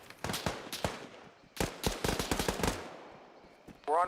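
Bursts of automatic gunfire in Arma 3, rapid cracking volleys in two clusters separated by a brief pause, fairly close and loud, with a short burst of voice at the end.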